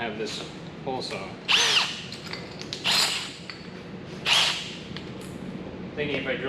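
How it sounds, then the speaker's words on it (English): A power drill fitted with a hole saw bites into material in short whining bursts, close by, while someone talks over and between the bursts. "Thinking if I drill a big hole in the middle, use a screwdriver around that"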